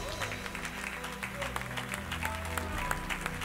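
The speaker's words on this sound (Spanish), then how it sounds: "Dale un aplauso al Señor." A church congregation claps for the Lord during a worship service, a fairly faint spread of applause sitting under sustained music and some voices.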